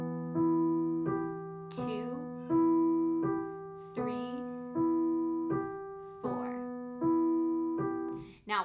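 Piano plays the opening line of the Moonlight Sonata with both hands, steady repeating triplet notes over held bass notes. A voice counts aloud over the playing.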